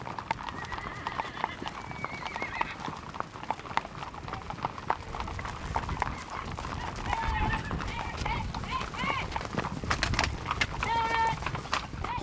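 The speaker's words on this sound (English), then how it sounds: "Horses are in a hurry, and there's lots of galloping to keep up." Horses gallop in a rapid, continuous clip-clop of hooves, close and steady throughout, with occasional neighs and whinnies and voices heard amid the commotion.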